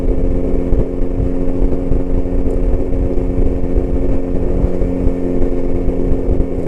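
A 2024 Kawasaki Versys 1000 SE LT motorcycle cruising at a steady speed on cruise control, its engine holding an even, continuous drone with road and wind noise, loud and close throughout.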